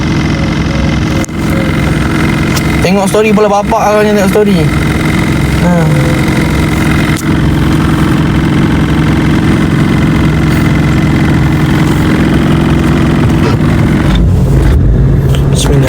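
Car engine running roughly and labouring, a loud continuous drone that persists throughout, with people talking in the cabin over the engine noise.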